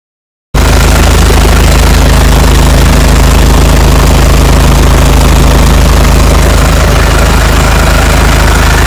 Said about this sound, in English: This is the current engine room, and it has been started in idle mode. There is a sound here that I would like to share with you.